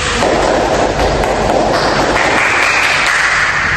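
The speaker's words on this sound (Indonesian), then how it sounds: "Coba kasih tepuk tangan." Loud, close classroom applause for a student who has just presented; the clapping blurs into a dense, harsh, continuous roar of noise with no talking.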